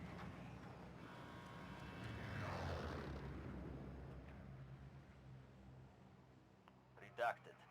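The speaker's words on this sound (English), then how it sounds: "Another plane just passed by" An airplane flies past in the Call of Duty Warzone video game, a whooshing engine roar that swells and then fades over a few seconds above steady in-game background noise. A short, sharp burst follows near the end.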